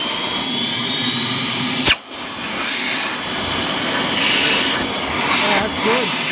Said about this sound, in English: First, I'm going to turn on the vacuum, and I want you to feel that.